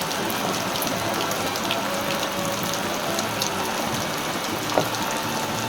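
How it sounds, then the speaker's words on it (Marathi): Heavy monsoon rain pours down steadily in the Konkan countryside, a dense, loud wash of drops hitting surfaces with one brief knock near the end. "आज भरपूर पाऊस पडतोय"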